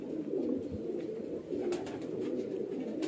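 A female highflyer pigeon coos in a low, soft, continuous warble close by, the murmuring call rolling on without pause and no one talking over it.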